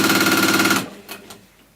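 A sewing machine stitches forward and back to lock a seam on a beginner panel tote bag, giving a loud, rapid mechanical rattle for nearly a second before stopping, followed by a couple of faint clicks.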